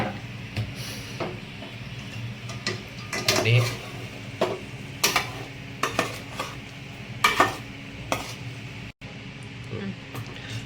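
A metal spoon scrapes and clanks against a pan while boiled potatoes are stirred with masala, in irregular bursts of knocks over a steady kitchen hum, with a voice faintly present in the background.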